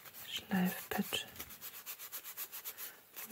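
Soft sanding pad rubbed across the seam of a handmade silicone mould, giving a steady run of faint, rhythmic scrubbing strokes after a few brief handling noises, with no talking.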